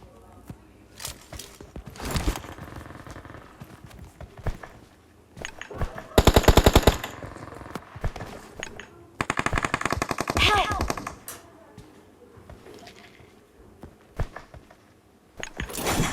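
Video-game machine guns rattle in rapid automatic bursts, two long sustained volleys among scattered single shots, loud and close over faint ambient game noise.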